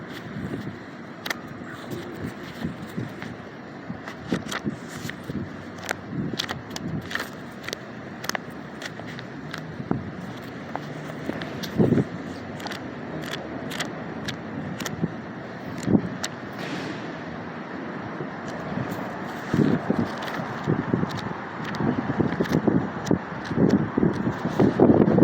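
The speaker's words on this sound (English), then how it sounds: "it's a little windy out here." Outdoors, gusty wind buffets a microphone in uneven low rumbles and thumps over a steady background hiss, with occasional sharp pops and no clear voices.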